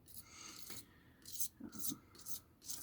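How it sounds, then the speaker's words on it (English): Dried paint being scraped up from an artist's palette with a tool, giving soft rasping strokes in short bursts, close and fairly quiet, with faint breathy background noise. "you just scrape all that paint up, then you stir it on in"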